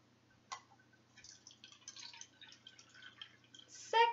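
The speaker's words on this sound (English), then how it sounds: "I'm going to add some water to each of these cups" Water poured from a tap into a plastic cup, a quiet trickle with small drips and splashes that builds into a louder filling burst at the end.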